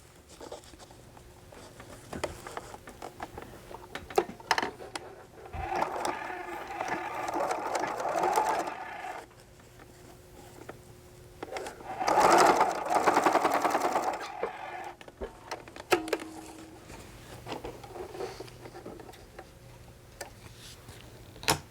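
A sewing machine runs a straight stitch in two bursts of steady, rapid whirring close by, separated and surrounded by quieter clicks and handling noises.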